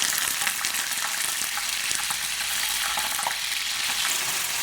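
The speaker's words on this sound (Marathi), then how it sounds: "ते पनीरचे तुकडे छान असं गोल्डन कलर येते त्याला तळायचे आहे" Paneer pieces fry in hot oil with a loud, dense, continuous sizzle and crackle, steady throughout and close by, with occasional faint pops.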